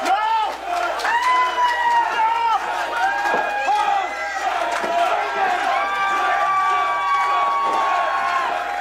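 A wrestling crowd at a heavyweight championship match roars and cheers loudly throughout, with shouting voices, chants and occasional slams.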